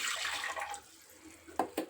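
Water poured into a pot to make rice flour dough for jaggery talikalu, heard as a brief close splashing rush that fades within a second, then two small sharp knocks, with no talking.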